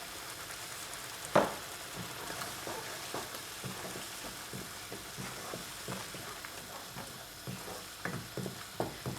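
Carrot masala frying in a pan while a spoon stirs it, a soft sizzle under repeated scraping strokes and light knocks, one sharper tap early on.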